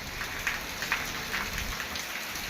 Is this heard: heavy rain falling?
yes